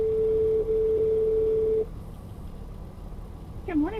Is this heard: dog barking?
no